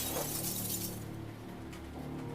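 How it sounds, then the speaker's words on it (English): A basement window shatters in a dense, bright burst of breaking glass, followed by lingering tinkling debris over a low, droning background rumble. "we heard glass breaking"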